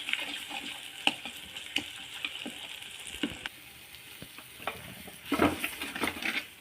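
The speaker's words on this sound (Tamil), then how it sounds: "இந்த பச்சை வாசனை போகணும் அது அளவுக்கு நம்ம இதை வதக்கணும்" Freshly ground spice paste is sautéed in oil in a pan for a kuzhambu, giving a soft sizzle broken by scraping stirs and light clatters of the spoon, close up and without talk.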